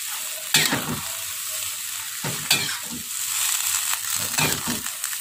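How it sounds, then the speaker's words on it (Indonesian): Cassava leaves stirred in a pan with a little water, several scraping, rustling strokes of a spoon or spatula over a faint constant sizzle, close by. "Nah, ini kita aduk rata."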